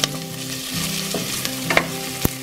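Celery and garlic frying in a hot pan, a loud close sizzle with stirring scrapes and a couple of sharp knocks.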